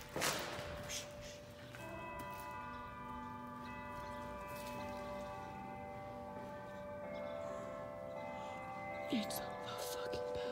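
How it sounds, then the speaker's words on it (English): Distant big bells ring out Amazing Grace as a slow, sustained tune, faint and resonant, with muffled voices and rustling close by, at the grounds of Central State Hospital. "Amazing Grace started playing on the big bells"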